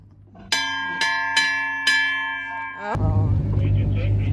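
A large bell rung aboard a Sunseeker 95 ft yacht, struck four times in steady succession with long ringing tones, then cut off by loud wind-like rumble and background noise.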